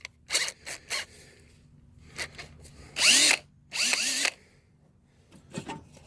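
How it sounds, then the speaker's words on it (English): Short bursts of a power drill drilling out a rivet: quick triggers, then two longer whining runs with pitch rising as the motor spins up, close by. "fire up the old drill"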